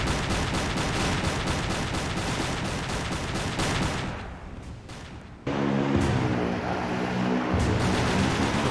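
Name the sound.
submarine flak gun firing in Silent Hunter 3 video game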